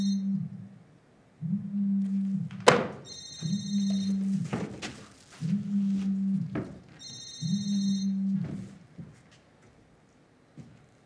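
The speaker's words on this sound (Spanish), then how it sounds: "Cuando ha sonado el teléfono" A telephone rings on a theatre stage in four repeated bursts separated by short pauses, fairly clear and close, with a few knocks and thumps between the rings.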